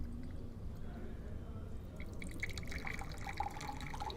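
Water passes slowly through a funnel into a glass, a faint trickle with small drips that grow more distinct toward the end, heard close against a soft background hiss.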